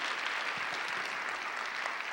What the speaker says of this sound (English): Give yourselves a round of applause for making it up and out in the morning.